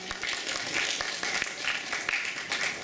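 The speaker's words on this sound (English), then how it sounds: "Just clap at any time, really." Audience at a comic convention panel applauding, a steady patter of many hands clapping throughout at moderate volume.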